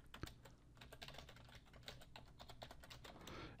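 Close, quiet typing on a computer keyboard with rapid clustered keystrokes and a final firm key press, with no voices.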